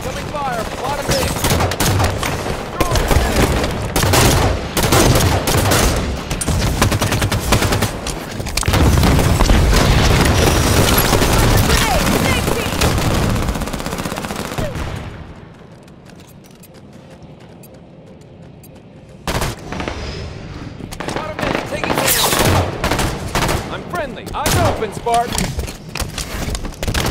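Dense, loud gunfire and explosions from the video game Halo 5: Guardians in a Slayer match, with rapid shots and booms that drop to a quiet lull and then resume, under in-game announcer voice callouts.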